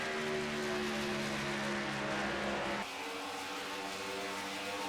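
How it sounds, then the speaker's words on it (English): Race trucks from the Menard's Truck Series, a short-track stock truck race in Minnesota, rumble loudly and steadily at close range with sustained engine drone, shifting in pitch partway through as the pack rolls out onto the track. "As many other trucks are making their way out onto the racetrack."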